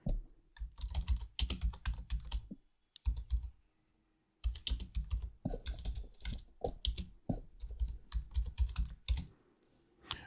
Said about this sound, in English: Let's just see if we type it in manually.